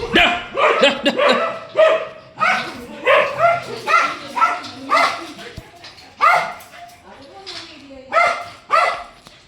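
A dog barks repeatedly at other dogs in quick bursts, close and loud, with yips and whines between barks.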